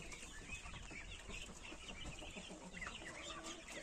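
Young chickens, a hen and a rooster, cluck and chatter continuously at a farmyard, several birds close by, their calls overlapping over a dense, steady background.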